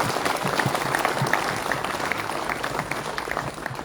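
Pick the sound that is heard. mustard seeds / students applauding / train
students applauding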